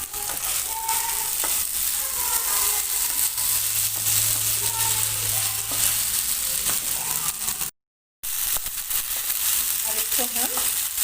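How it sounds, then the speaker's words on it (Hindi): Grated raw coconut sizzles in a pan of sabudana, a steady dense frying hiss that carries throughout, with stirring scrapes and a brief break near the end. "इसी साबुदाने में हम थोड़ा सा ये नारियल, कच्चा नारियल है,"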